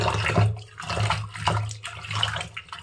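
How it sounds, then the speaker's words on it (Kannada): Lentils being washed in water in a home kitchen, with close splashing and swishing that pulses in short irregular bursts over a low steady hum, and no voices. "ನಾನು ಬೇಳೆ ತೊಳ್ಕೊತಾ ಇದ್ದೀನಿ"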